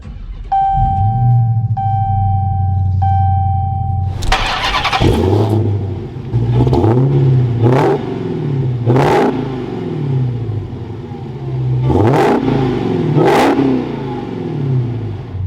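A 2021 Dodge Challenger SRT Super Stock V8 starts after a few chime tones, catching with a loud bark, then settles into a deep rumbling idle punctuated by several sharp throttle blips, close and alone with no talking.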